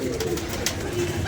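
Pigeons coo close by in a continuous, overlapping murmur of soft throaty calls.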